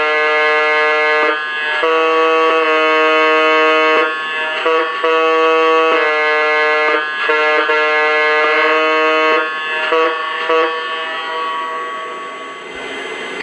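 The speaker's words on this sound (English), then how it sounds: "Alright, now let's hear the horn." Electronic horn sound effect from a Lionel Southern Pacific AC-9 model steam locomotive: a loud, chord-like tone sounding in a series of long and short blasts with brief gaps, heard alone.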